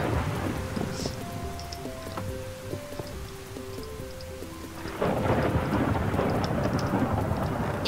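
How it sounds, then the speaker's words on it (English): Rain and rolling thunder from a Minecraft thunderstorm: a steady wash of rainfall with a deep rumble, and soft in-game tones drifting over it, the downpour growing louder and denser in the second half. "It's raining."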